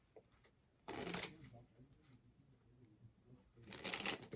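A deck of 52 playing cards being shuffled, two bursts of dense riffling flutter close to the microphone, the first short and the second rising near the end, separated by quieter handling noise.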